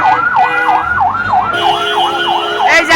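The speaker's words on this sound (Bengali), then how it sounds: "ফায়ার সার্ভিসের গাড়ি আইছে" A fire service truck siren wails in fast repeating up-and-down sweeps, loud and close, with a second tone layering in halfway and faint crowd noise beneath.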